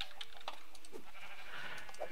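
Sheep bleating in the video game Minecraft, faint and fairly distant, with a few short bleats scattered across a quiet background and no talk.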